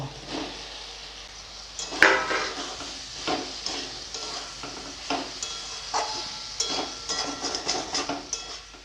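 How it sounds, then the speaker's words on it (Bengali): Fried potatoes go into a pan of cooked-down spice masala for Bengali aloo dum, followed by sizzling, scraping and clinking of a spatula against the pan in irregular bursts. "এবারে ভেজে রাখা আলুগুলো দিয়ে দিব"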